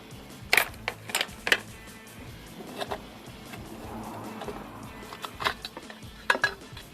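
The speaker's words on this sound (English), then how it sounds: "There goes the starter cover." Starter cover coming off a 1977 Suzuki GS550 motorcycle engine during a charging system teardown: a few sharp metallic clicks and clinks of parts and tools, spaced irregularly, close and fairly quiet.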